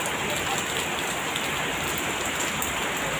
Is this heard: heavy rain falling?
yes